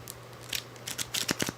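Drunkquest Black Label playing cards are riffle-shuffled up close, a quick burst of crisp flapping clicks that cluster and speed up toward the end.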